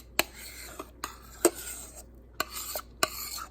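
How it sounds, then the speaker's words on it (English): Egg mixture being stirred into chocolate in a pot for German chocolate pudding, a handful of sharp, close utensil knocks and scrapes spaced irregularly against a quiet background. "Let's give this a good stir."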